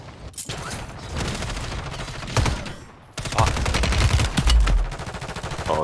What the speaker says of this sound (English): now they're shooting at me from across